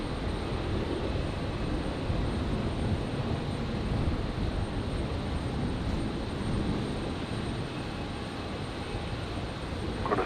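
A jet aircraft landing at Brisbane airport on a stormy night, a loud, steady broadband engine roar sustained throughout with no voices.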